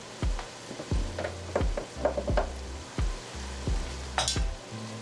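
Flour being stirred into a hot pan with a spoon: sharp utensil clicks and scrapes against the pan repeat irregularly over a low sizzle, close and fairly loud, with no talking.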